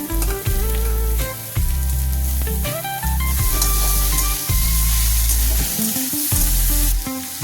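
Boiled cauliflower goes into a pan of frying vegetables, setting off a continuous close sizzle and frying crackle that runs under loud background music.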